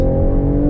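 A 2022 Toyota GR Supra's engine drones loud and close under hard acceleration, a steady low harmonic roar filling the short burst with no voices over it.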